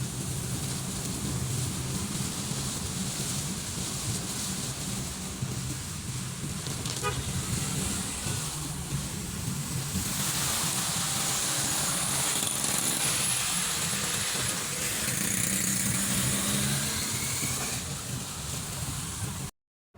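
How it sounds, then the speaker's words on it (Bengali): A car drives through heavy rain on a stormy day, its engine and tyre wash forming a continuous noisy rush with a brief faint horn toot, then it cuts off abruptly at the end. "তাই আমি বৃষ্টির মধ্যে গাড়ি নিয়ে বাইরে চলে গেলাম"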